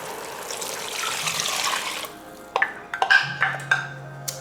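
Beef broth mixture with allspice and Chinese five-spice pours into an Instant Pot for short ribs, a steady liquid wash for about two seconds, followed by a few clinks and knocks against the pot.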